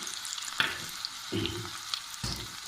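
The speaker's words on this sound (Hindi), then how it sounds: "इनको थोड़ा सा हम भून लेंगे" Tadka of chopped onion and whole red chilies frying in a little oil, a close, steady sizzle with periodic stirring scrapes of a spoon in the pan.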